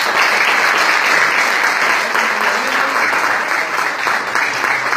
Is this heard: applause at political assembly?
yes